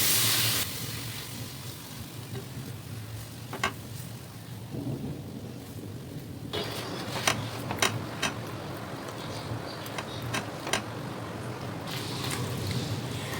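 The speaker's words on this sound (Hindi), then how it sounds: "ये क्रीम जो है अच्छे से पकना शुरू हो गई है" Cream and milk simmering in a pan for butter chicken, giving a steady bubbling hiss with occasional sharp taps and clinks of a spoon stirring, close and constant.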